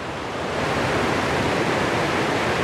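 A waterfall carrying peat-brown water down off the hills, heard as a loud, dense, continuous rushing roar close by that swells slightly at the start and then holds steady, with no voices.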